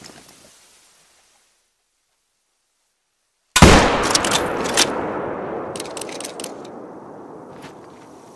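A single loud rifle shot from the hunting game theHunter: Call of the Wild cracks suddenly after several seconds of near silence. Its long reverberant tail fades slowly and is dotted with a few faint later clicks.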